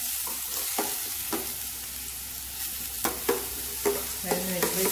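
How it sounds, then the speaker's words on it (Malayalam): Garlic and onion fry in hot oil for a homemade pizza topping, a soft sizzle broken by repeated scraping stirs and knocks of a spoon against the pan, closer and sharper toward the end. "ഇട്ട് വെളുത്തുള്ളിയും ഇട്ട് അതിൻ്റെ കൂടെ സവാള ഉള്ളിയും ചെറുതായിട്ടൊന്ന് വരുന്നാൽ മതി"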